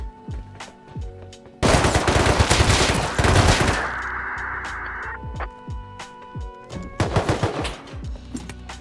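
Scientists in the video game Rust open fire, with a loud sustained burst of automatic gunfire followed by a ringing tone, then another rapid volley of shots near the end.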